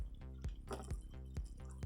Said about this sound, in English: I'm gonna pour some of this meat into the bowl.